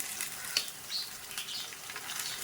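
Ginger garlic paste sizzles in a pan with frying mutton, a steady hissing crackle throughout with a few sharper pops, close and fairly quiet, with no talking.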